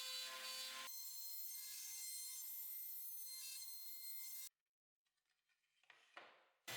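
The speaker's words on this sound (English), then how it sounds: "I decided to let the x-carve cut the rest of the pieces out for me as well" An X-Carve CNC machine cuts wooden pieces with a loud, steady, high whine that runs for several seconds, then stops abruptly, leaving only faint scattered noises.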